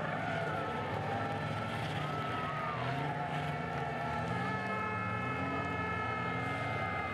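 A race car does a burnout at the Jarama circuit, a steady, dense roar with a wailing, siren-like engine tone that holds from start to end, heard from a distance amid the ambient noise of the track.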